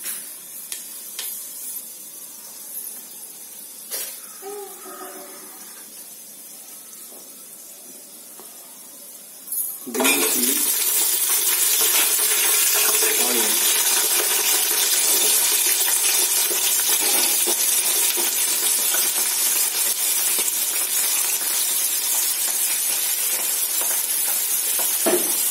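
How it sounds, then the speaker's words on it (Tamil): Whole spices (cinnamon, clove, cardamom, bay leaf and fennel) are tipped into hot oil to deep fry: after a quiet stretch with faint clinks, a loud, bright, continuous sizzle bursts in and holds steady, close up. "நல்லா டீப் ஃப்ரை பண்ணிக்கலாம்"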